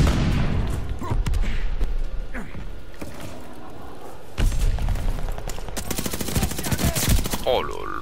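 Thompson submachine gun firing in a video game, with repeated loud bursts of rapid automatic shots; the bursts grow denser and heavier in the second half, among other game noises, and a voice speaks briefly.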